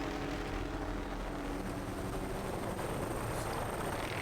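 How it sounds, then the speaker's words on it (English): Helicopters arriving in the video game Zoo Tycoon 2, a steady dense rotor rumble and whir held at a constant, fairly quiet level without talk. "here come all the loud helicopters"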